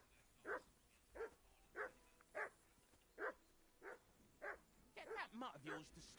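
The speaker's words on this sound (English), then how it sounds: "Get that mutt of yours to stop barking," A dog barking in the video game Kingdom Come Deliverance 2, a regular series of single barks about a second apart, then quicker and overlapping near the end, moderately faint.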